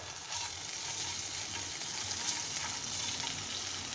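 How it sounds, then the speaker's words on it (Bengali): Ginger paste hits hot oil in a kadai, giving a soft, even sizzle that holds steady throughout without any talking. "কড়াইতে একটু তেল দেবো, একটু আদা বাটা দিয়ে দেবো।"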